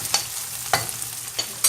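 Onions frying in a pan for egg curry, a soft sizzle under three brief stirring scrapes spaced about half a second apart, close and fairly quiet with no talk.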